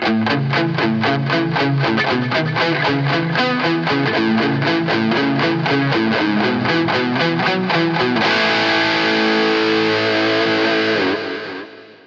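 An electric guitar with its lows cut, treated with compression, chorus, delay and reverb, plays a rapid run of evenly picked notes and then settles into sustained chords that ring out and fade, loud and alone.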